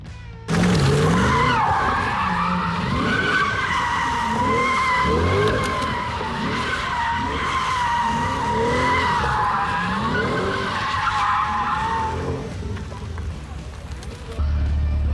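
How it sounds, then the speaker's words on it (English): A C8 Corvette spins donuts, its tires screeching in a loud, sustained squeal that wavers up and down over a roaring engine for about eleven seconds before fading, with brief voices at the end. "Doing some donuts and I think I just lost a piece of my tire."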